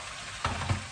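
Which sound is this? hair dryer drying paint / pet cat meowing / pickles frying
pickles frying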